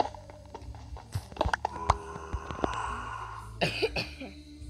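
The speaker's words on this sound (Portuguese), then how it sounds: "Me desculpe pela tosse." A person coughs several times in quick bursts, close by, followed by another short coughing fit near the end.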